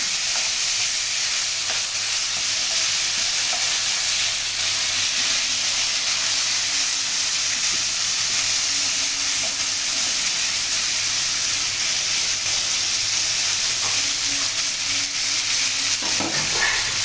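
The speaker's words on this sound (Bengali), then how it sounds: "তো এখানে মাছটা ভালো করে ধুয়ে তারপরে যে এখন ভেজে নিতেছি।" Pangas fish pieces frying in hot oil in a pan, a loud continuous hissing sizzle that holds steady for the whole stretch, close by, with a few faint clinks near the end.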